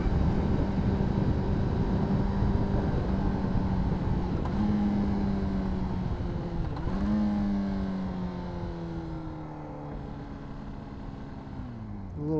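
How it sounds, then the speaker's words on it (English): Honda CBR600RR sport motorcycle heard from the rider's position, its engine droning steadily and then winding down as the throttle closes, pitch falling with soft burbles while the bike slows. "I love this bike's like little burbles. When I let off that throttle, it sounds so good."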